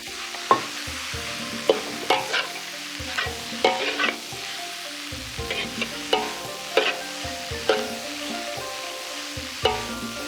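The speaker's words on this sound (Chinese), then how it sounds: "然后把刚才炒好的圆白菜倒进去，把鸡蛋放进去" Cabbage and egg are stir-fried together for stir-fried flatbread, with a steady close sizzle and a regular rhythm of clanking knocks as chopsticks and a spatula toss the food in the pan, and no talking.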